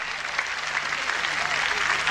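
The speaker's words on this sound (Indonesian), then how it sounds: "katakan amin dan tepuk tangan bagi Tuhan" A church congregation applauds for a couple of seconds. The dense clapping comes at moderate volume, with a faint low hum running underneath.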